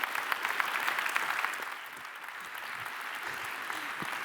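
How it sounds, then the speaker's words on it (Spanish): Audience applause at the Aragón Business Summit conference, dense continuous clapping from a large crowd in a hall, steady and moderately loud throughout with a slight dip midway. "Ojo, que un aplauso."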